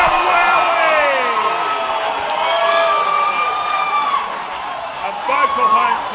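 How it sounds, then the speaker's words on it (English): A vocal home crowd at the 2018 Black Diamond AFL Cup grand final between Terrigal Avoca and Newcastle City roars after a goal, with sustained cheering, rising whoops and shrill whistling spread across a large outdoor ground. "A vocal home crowd."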